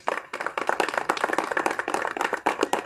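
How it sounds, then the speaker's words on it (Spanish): Audience applause at a patronal festival in Paucartambo, Pasco, honoring a guest: steady, dense clapping from many hands, fairly close and loud, continuing alone for the whole stretch. "Vamos a recibir con un aplauso a don Teodosio Ureta."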